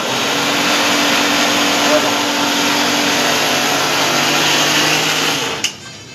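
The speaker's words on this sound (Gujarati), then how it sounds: "લાડવા તૈયાર થઈ રહ્યા છે મિક્સરમાં મુઠીએ તળાઈને" A mixer grinder whirs loudly and steadily as it grinds fried dough pieces for laddoos, its motor holding one droning pitch before cutting off abruptly just before the end.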